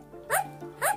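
An African grey parrot imitates a dog bark, giving two short, sharp woof-like calls about half a second apart, close and moderately loud against a faint steady hum.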